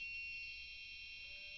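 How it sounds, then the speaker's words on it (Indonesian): An Arduino-built anti-theft alarm buzzer sounds a continuous shrill, high-pitched electronic tone, steady and fairly loud from start to finish with no talk over it. "maka alarm akan tetap berbunyi ya."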